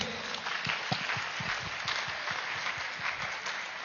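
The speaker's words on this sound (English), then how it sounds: "Can we clap for them please?" An audience at a meditation summit in India claps in a dense, continuous wash of applause that holds at an even level throughout.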